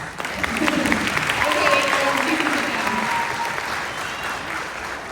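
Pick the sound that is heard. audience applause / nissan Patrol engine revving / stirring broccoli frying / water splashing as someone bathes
audience applause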